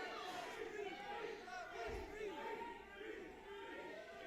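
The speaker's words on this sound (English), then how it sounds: "Listen to the crowd." Wrestling arena crowd roaring and cheering after a three-count pinfall, a dense continuous wall of voices with a brief low thump near the middle, loud and sustained throughout.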